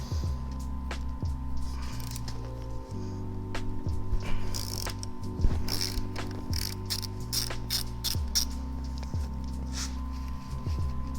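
Bolts on a Honda Rebel front fork are loosened with a ratchet, giving repeated clicking pawl strokes in steady bursts alongside a steady low mechanical hum, close up and without speech.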